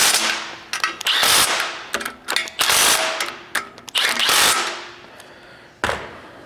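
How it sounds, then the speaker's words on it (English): Rapid bursts of an impact driver or ratchet tightening bolts on an ice auger, about nine or ten short loud mechanical rattles separated by brief pauses, close by with no talking. "grab your impact or your ratchet, tighten these down"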